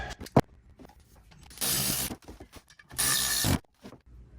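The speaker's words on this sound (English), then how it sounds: "Put our 2 bolts back in and the nuts." Ratchet cranking on bolts for a motor mount on a Porsche Boxster 986, heard as two bursts of steady clicking close by, separated by a few quieter single clicks and taps.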